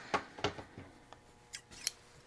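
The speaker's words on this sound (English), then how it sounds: "I have had this pair of Ginger scissors" A handful of crisp, sharp snips and metallic clicks from a decades-old pair of Gingher scissors, spaced unevenly and heard up close in a quiet room.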